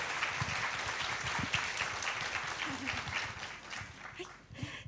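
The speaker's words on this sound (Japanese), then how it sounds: "今一度大きな拍手をお願いいたします。" A theatre audience at a film premiere stage greeting gives steady, fairly faint applause, with a voice briefly audible near the end.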